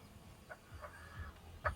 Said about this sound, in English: We've got 2 roosters and a hen.